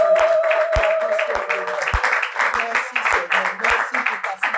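A congregation at a religious gathering claps and cheers, a dense wash of applause with a few deep thumps and a held musical tone, the clapping rising and falling throughout.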